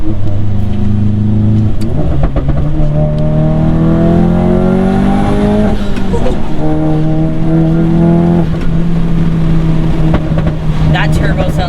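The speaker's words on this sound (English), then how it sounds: "That turbo sounds good." Tuned Stage 2 VW Golf GTI MK7 with a loud exhaust revving hard from inside the car, engine drone rising and falling with turbo whoosh and scattered crackling pops, continuous and close.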